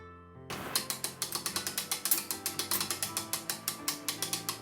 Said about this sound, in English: I'll reverse the flow of the winder and we'll make sure it catches.